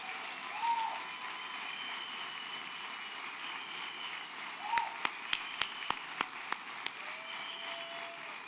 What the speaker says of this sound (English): And let's give him a round of applause.